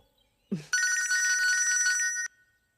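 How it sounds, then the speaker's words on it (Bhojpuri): A phone rings with a bright, continuous electronic trill lasting about a second and a half, preceded by a short rustle. "भैया के फोन आवता माई।"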